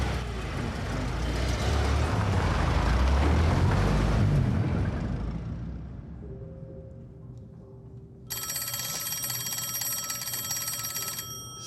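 An old telephone bell rings with a bright, sustained metallic trill, starting abruptly after a loud rumble of passing traffic fades out, with a low engine hum still faintly beneath it.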